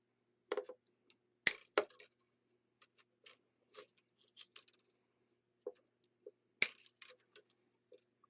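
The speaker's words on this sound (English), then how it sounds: "cut them just in front of the bridge" Sharp metallic snips and clicks as electric guitar strings are cut just in front of the bridge, a few distinct crisp cuts among lighter scattered ticks, close and isolated in a quiet room.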